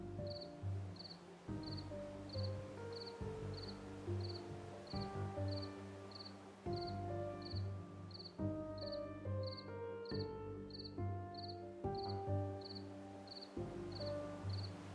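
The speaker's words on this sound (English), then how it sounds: "The sound of the cricket at night with soothing music" Crickets chirping at night in the city-building game Blockhood, a steady, regular series of short high chirps running through the whole stretch over soft, soothing background music.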